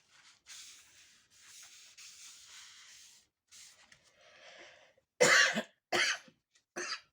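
A few sharp coughs ring out close by, three bursts in quick succession after a stretch of quiet paper rustling and rubbing.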